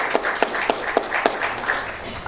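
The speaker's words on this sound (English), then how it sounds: "Please give her a round of applause for the presentation." At a journalists' conference, the audience offers brief applause for a presenter. A few distinct claps fall at a steady, measured pace over a soft bed of scattered clapping that fades quickly.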